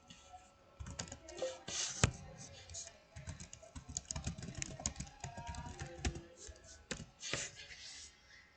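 Fingers typing a file name on a computer keyboard, a near series of quick irregular key clicks in small bursts with a few louder strokes, no talk.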